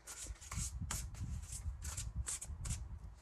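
Oracle cards are shuffled close up in quick, papery riffles and slaps, about a dozen crisp bursts in rapid rhythm over three seconds, quiet and alone.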